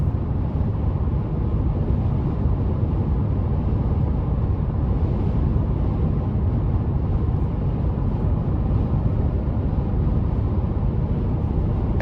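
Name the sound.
tire road noise of a Toyota Tacoma on the interstate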